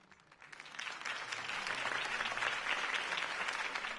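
A crowd in the Batman Telltale Series video game applauds after a campaign speech. The clapping swells from quiet to a full, steady wash of applause heard at some distance.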